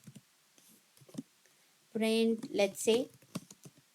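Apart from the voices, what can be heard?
typing on a computer keyboard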